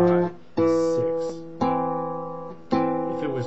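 A guitar plays a minor sixth interval three times, each time a low note struck first and a higher one rung with it, ringing clearly in a quiet room with nothing else heard.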